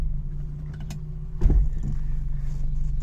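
A single dull clunk as the automatic gearbox of a 1967 MG 1100 engages, a short thump rising out of the car's steady low idle rumble, close by, with no voices.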